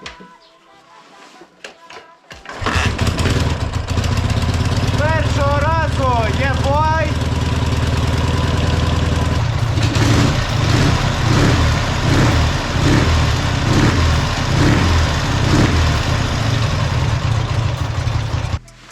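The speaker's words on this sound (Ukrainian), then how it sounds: "Акум стоїть і будемо прогрівати МТшечку." A Dnepr MT11 motorcycle engine starts and warms up, idling loudly and roughly with a steady throbbing beat and occasional revs, while someone talks over it.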